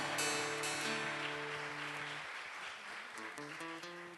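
A church congregation applauding together during a worship service, a dense steady wash of clapping under sustained organ or keyboard chords, fading slightly toward the end.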